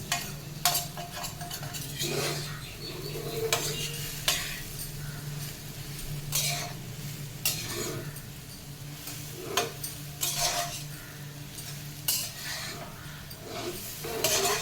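Pappula patoli, a lentil dish, frying in ghee over a low flame, with a soft steady sizzle and repeated scraping, stirring strokes of a spoon in the pan, heard close with no talking.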